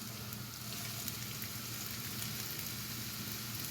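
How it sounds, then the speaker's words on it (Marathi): Onions frying in hot oil in a pan sizzle steadily and evenly throughout, a dense close-up crackle with no talk over it. "हा कांदा मला इथे दिसतोय चुरचुरीत होताना. हा बघा, असा आवाज पण येतो आता."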